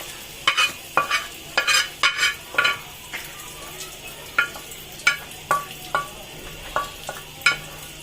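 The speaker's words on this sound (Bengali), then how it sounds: "এদিকে আমাদের এই শাক এটা ভাজা হয়ে গেছে" Gourd leaf greens frying in a pan, with a soft steady sizzle broken by sharp, repeated clinks and scrapes of a stirring utensil against the metal, close and fairly loud.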